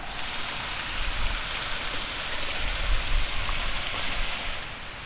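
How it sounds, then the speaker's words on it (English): Steady rain pours down, a dense broadband hiss with low rumbling patter swelling slightly in the middle, no voices present. "Rain's starting to pick up a little bit again."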